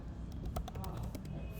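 Key clicks on a computer keyboard during PHP coding, a short burst of irregular, close taps over steady low room noise.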